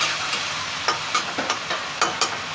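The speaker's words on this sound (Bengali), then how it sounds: "নাড়াচাড়া করে একটু ঢাকা দিব। হালকা জল দিয়ে দিচ্ছি মশলাটা যাতে না পুড়ে যায়।" Spices for a panch misoli chorchori mixed vegetable dish are stirred in a pan with a little water, a steady close sizzle broken by a handful of short scraping strokes.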